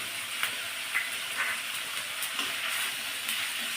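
A soft, steady frying hiss of ginger-cumin paste in a pan, with faint crackles and light stirring taps, quiet and close with no voices.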